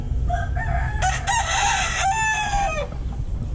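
A rooster crows loudly nearby, a long rising and falling cock-a-doodle-doo over a low background hum.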